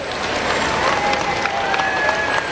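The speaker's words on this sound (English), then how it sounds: "Let's give these first responders a Carpinteria round of applause" A crowd at the Carpinteria Independence Day parade in 2014 applauds and cheers as a fire district truck carrying first responders passes. The broad, continuous outdoor clapping and crowd noise stays loud throughout, with a faint tonal whine running underneath.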